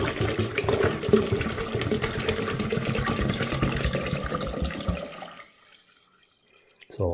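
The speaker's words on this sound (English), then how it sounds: "we're just going to add, again, it's regular tap water" Regular tap water poured into a Vevor water distiller, a steady splashing, gurgling stream for about five seconds before stopping, followed by near silence and a brief final splash.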